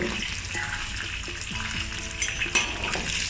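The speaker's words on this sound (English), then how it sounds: "Now let's move on to deep fry the beef." Beef for Hunan cumin beef deep fries in hot oil over high heat, giving a steady, dense sizzling hiss. A few light clinks of cookware sound through the frying.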